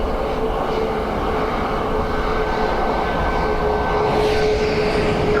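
An airplane landing on runway 28 left at Dublin Airport on a windy day, its engines a loud, steady, continuous roar throughout, with no voices.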